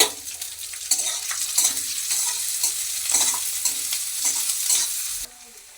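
Onion frying in mustard oil in a pan, a steady close hiss of sizzling with stirring scrapes throughout, dropping off abruptly near the end.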